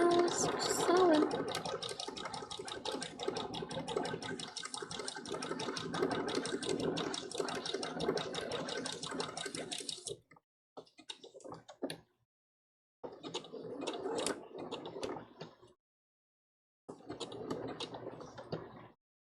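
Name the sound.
sewing machine stitching Big Mom cosplay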